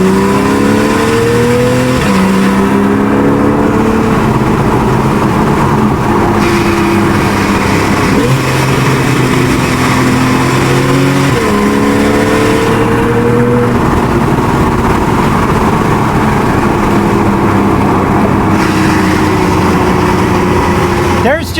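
A Porsche 911 of the 991.1 generation with its 3.8-litre, 400-horsepower naturally aspirated engine roars loudly and continuously, its pitch climbing and dropping again through repeated revs and shifts.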